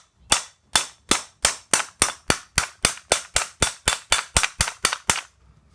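A hammer strikes a punch driven through a coin wedged between pieces of wood, making about fifteen sharp, evenly spaced metallic cracks in a steady rhythm, loud and close, with no talking.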